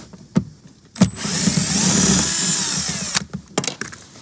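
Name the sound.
power drill removing a bolt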